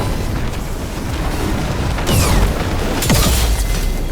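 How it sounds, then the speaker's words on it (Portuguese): Explosions from Dragon Age: The Veilguard land as two loud, booming bursts about a second apart, layered over a dense, continuous wash of game noise. "Explosão na tua cara."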